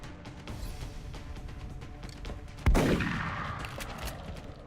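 Gunfire in the video game XCOM Long War, a flurry of rapid shots followed by one loud, sharp blast with a lingering decaying rumble.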